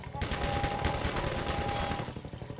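Rapid gunfire from the video game Half-Life 2, a dense burst of automatic shots with a steady ringing tone underneath, loud and close for about two seconds before tailing off.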